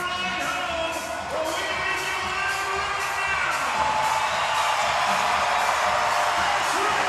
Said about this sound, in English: Crowd comes to their feet.